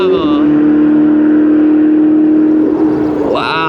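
A Ferrari turbo race car on a hot track at Clark Speedway holds a loud, steady, high engine note close by, then the pitch sweeps up sharply as it accelerates near the end.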